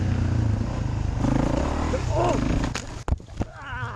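A dirt bike engine roars under heavy throttle, then a sharp crash thuds as the rider slams into a tree, followed by a shout and rustling after impact.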